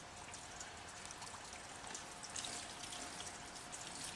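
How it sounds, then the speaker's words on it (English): A compost stocking dropped into a tub of water for compost tea, giving a steady close splashing and trickling wash of water throughout, with no talking. "drop it into our tub of water."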